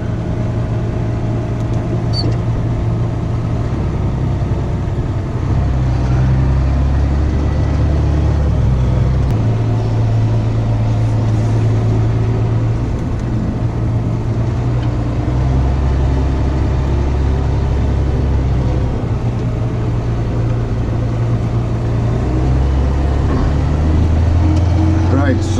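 A tractor spreading fertiliser drives up and down a field, its engine a steady, loud, close drone with a low pulsing hum throughout; someone talks over it.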